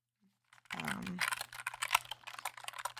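Fingers tapping and typing on a new mechanical computer keyboard, close and crisp: a dense run of quick clicky keystrokes with an uneven rhythm, preceded by a brief near-silent lead-in.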